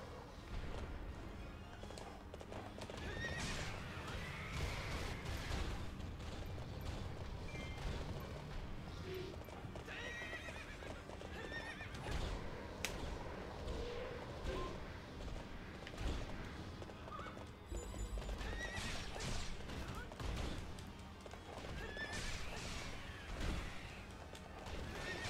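A horse in the video game Hyrule Warriors neighs and whinnies again and again amid clattering hooves, crashes and booming battle effects, all dense, loud and continuous, with a voice talking briefly now and then.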